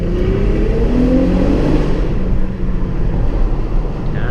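A 2006 Infiniti M35 accelerating through a tunnel, its engine a loud, steady low rumble with rising tones that echoes and fills the space throughout, heard from inside the cabin.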